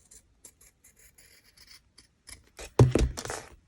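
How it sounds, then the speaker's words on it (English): Quiet snipping and sliding of sharp fabric scissors, a few faint cuts followed by a louder, closer rasping cut through fabric. "I've got my really sharp fabric scissors"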